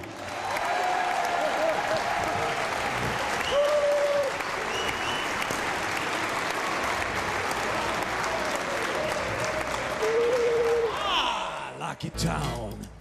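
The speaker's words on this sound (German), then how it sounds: "ihm einen großen Handvoll Applaus geben" Sustained audience applause for the singer at a live show, a dense steady wash of clapping with faint crowd noise that carries on for about twelve seconds before stopping abruptly.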